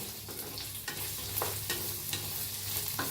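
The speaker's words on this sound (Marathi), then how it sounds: "त्याच्यात ओतूया तेल, थोडं कांदा भाजून घेऊया, मिरची टाकलाय, हलवून भाजून घेऊया।" Onion and green chili frying in oil in an iron pan, a close continuous sizzle with repeated scraping strokes as the mixture is stirred, no speech.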